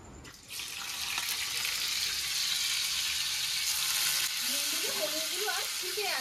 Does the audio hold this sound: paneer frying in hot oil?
yes